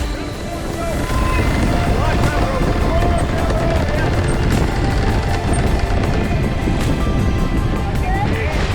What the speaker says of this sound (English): Too much wind, Joe.